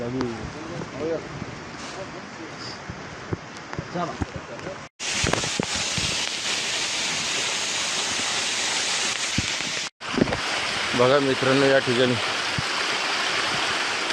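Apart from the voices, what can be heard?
water flowing over stone steps on Kalsubai trek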